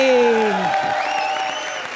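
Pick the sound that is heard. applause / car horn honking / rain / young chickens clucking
applause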